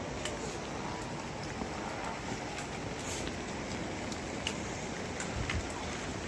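Steady rain falling on a rainforest trekking trail in the Singalila area on the Sandakphu–Phalut route, a dense even hiss with scattered drop taps, continuous and fairly close throughout, with no talking.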